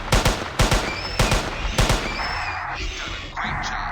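Gunfire rings out in the video game Jurassic Park Hunter Legends: a rapid string of sharp, loud shots comes in quick bursts, then gives way to a quieter, muffled tail. No speech is heard.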